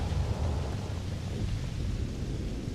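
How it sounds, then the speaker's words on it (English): Thunder rolls through a lightning storm on a planet in Starfield, a continuous deep rumble with rain-like hiss, loud and close, without pauses. "It looks like we've got some lightning going on."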